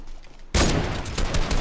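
Gunfire in a Fortnite squad match bursts in suddenly partway through, loud rapid shots rattling close together in a dense volley, with no talk over it.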